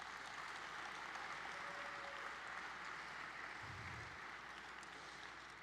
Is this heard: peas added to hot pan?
no